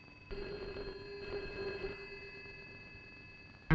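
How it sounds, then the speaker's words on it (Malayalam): A telephone rings in a quiet indoor movie scene, its electronic tone sounding steadily and fairly close for several seconds before an abrupt louder noise cuts in at the end. "അവനാ ഫോൺ ചെയ്യുന്നത്"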